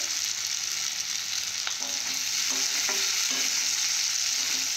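Onions frying in a pan for a bitter Malabar spinach dish, a steady close sizzle with occasional soft stirring scrapes, no voices.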